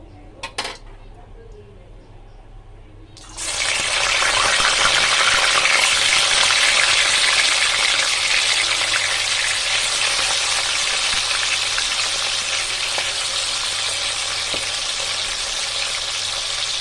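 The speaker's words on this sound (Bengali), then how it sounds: "তেলটা গরম হয়ে গেছে, এবার মাছগুলোকে আস্তে আস্তে করে দেব।" Rohu fish pieces going into hot oil, a brief quiet clatter before a sudden loud burst of sizzling that stays strong and steady, close up with no talk.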